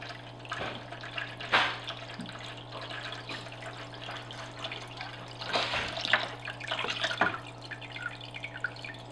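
Water being siphoned from an aquarium during a partial water change, a quiet trickle and gurgle with occasional louder splashes and drips over a constant low electrical hum.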